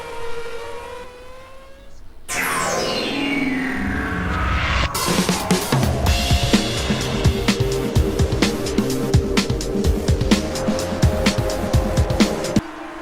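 Pack of IndyCar race cars restarting the Nashville Grand Prix in an IndyCar racing video game, engines rising from a lone revving pitch into a loud, dense roar of many cars accelerating together, sustained with rapid gear-shift pulses throughout.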